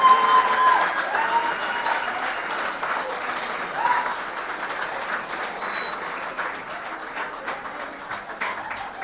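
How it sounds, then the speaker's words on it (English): A public speaking semi-final audience applauds the finalists, a strong burst at first that settles into steady clapping and fades gradually, with scattered cheers in the crowd. "Another round of applause for the finalists."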